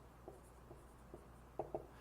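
Marker or chalk strokes on a classroom board during a math lesson on circles, a few soft taps and scratches with two sharper strokes near the end, close and alone against a quiet room.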